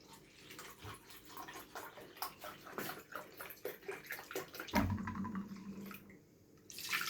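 Milk poured into a cup or pot while making chocolate truffles, a soft liquid splashing and trickling in a few short bursts, close by, with a louder steady pour near the end.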